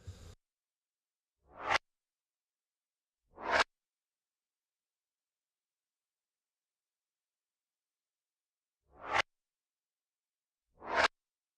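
Four separate rising whooshes with a sucking quality, made by filter automation on a percussion loop. Each swells over about a second and cuts off sharply, with long silences between them.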